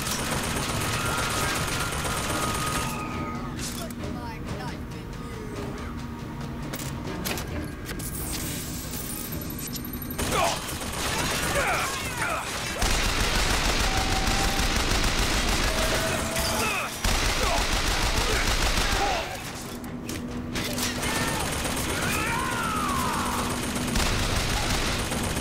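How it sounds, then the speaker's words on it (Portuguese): Rapid bursts of gunfire from a first-person shooter, Bioshock Infinite, rattle almost continuously with heavier volleys throughout, loud and dense, with occasional voices underneath. "Da onde que tá vindo o tiro?"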